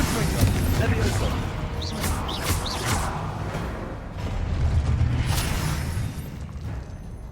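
A Confringo explosive spell in Hogwarts Legacy, crackling magical bursts and muffled booms within an ongoing fight, with a voice speaking over it.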